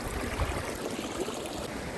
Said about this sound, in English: Lots of little streams to cross.